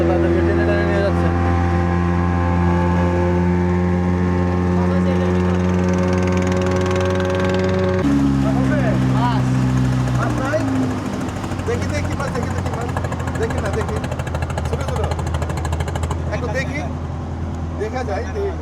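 A trawler engine chugs steadily at sea while towing another broken-down trawler, a loud, close, droning throb that shifts pitch partway through, with people talking over it.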